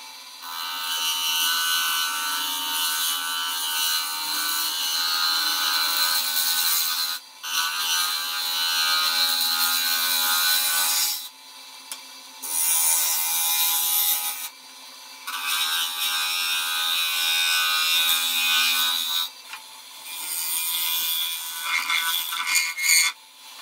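A wooden piece is sanded with a power sander in long continuous passes, a steady buzzing grind broken by several short pauses, loud and close with no talk.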